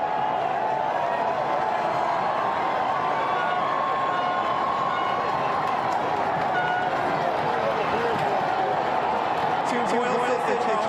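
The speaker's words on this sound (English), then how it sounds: "I have not seen a louder crowd" Dense, loud crowd roar fills a street during the Celtics championship parade in Boston, a steady wash of cheering and shouting with voices talking throughout.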